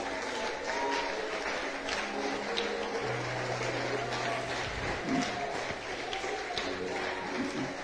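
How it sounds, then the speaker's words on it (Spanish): Sustained applause from a church congregation fills the whole stretch, a steady wash of clapping with some background voices and sounds mixed in. "Den un aplauso al Rey, hermanos."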